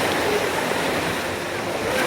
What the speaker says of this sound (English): So this is a raging river.